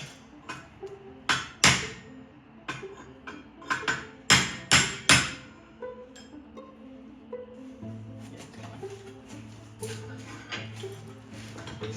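A brass punch struck with a hammer while shaping a Damascus Viking sword: a dozen or so sharp metallic taps in irregular bursts, close and fairly loud, followed by a softer faint hum and scattered light ticks.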